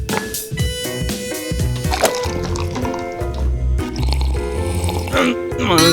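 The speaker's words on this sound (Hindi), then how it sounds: "मुझे प्यास लगी है, पानी पी लूं" Water is poured and then drunk in a dense mix of liquid dripping, filling and squishing sounds, heard under music and other background sound.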